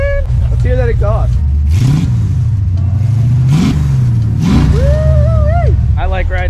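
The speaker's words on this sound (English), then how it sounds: "Let's hear that exhaust." 1969 Ford Mustang Mach 1 with long tube headers, driven with a 3-speed manual, its exhaust revving in several loud surges that rise and fall, with speech in between and over it from inside the car.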